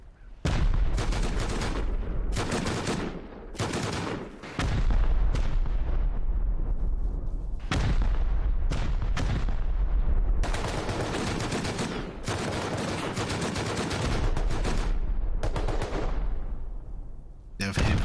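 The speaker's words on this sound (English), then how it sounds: "They have fucking rocket launchers." Rocket launcher blasts and explosions in a shooter video game come in loud repeated bursts, each with a sharp onset and a decaying rumble, separated by short gaps.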